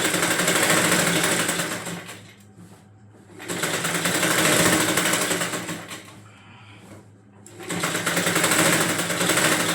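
Loud, steady sewing machine edge-stitching a saree petticoat panel runs in three long stretches, broken by two brief slowdowns where the motor drops to a softer hum.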